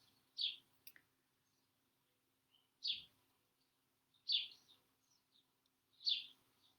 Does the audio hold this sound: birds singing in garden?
yes